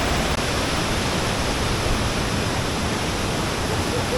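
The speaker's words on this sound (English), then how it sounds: "I could have stayed at this first man-made waterfall all day" A man-made waterfall on Sumba pours in a steady, dense roar of falling water, close and loud throughout, with no voices over it.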